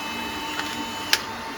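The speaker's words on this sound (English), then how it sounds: "And the printer will home itself." A MakerGear M2 3D printer homes itself with a soft steady motor whir and a couple of faint mechanical clicks, close and quiet, no talking.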